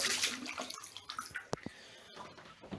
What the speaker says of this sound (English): I'm going to pour the water away.